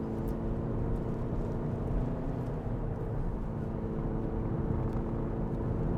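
A Hyundai Tucson 1.6 CRDI diesel with a DCT gearbox accelerates on an open road, giving a steady, continuous engine and road drone with low rumble and wind, loud and unbroken throughout with no voices.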